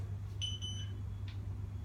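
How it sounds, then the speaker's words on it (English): A workout interval timer gives a short high electronic beep, then a fainter second blip, over a steady low hum in a quiet room. "I usually have a 10-second timer to start."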